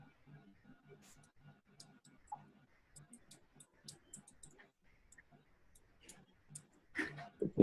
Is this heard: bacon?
no